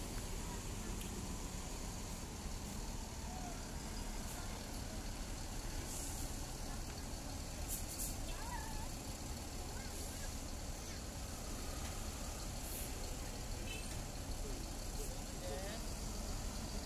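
Bus manoeuvring into a parking bay at the departure area of Kampung Rambutan bus terminal, a steady low engine rumble amid busy terminal noise with distant voices and faint hiss throughout.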